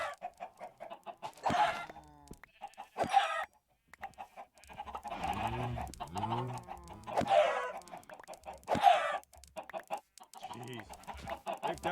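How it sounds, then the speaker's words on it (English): Several video game chickens cluck in quick, busy bursts, separated by short pauses, with occasional sharper squawks standing out close and clear. "We gotta do something about all these damn chickens"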